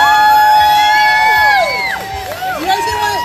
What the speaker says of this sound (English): Cheer him on, guys.